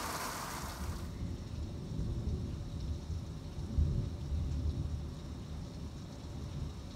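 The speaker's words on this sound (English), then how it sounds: "I think you could hear the end of the thunder on that, hopefully." Low rolling thunder from a May thunderstorm with rain, a deep sustained rumble that swells and fades under a steady hiss of rainfall, fairly distant.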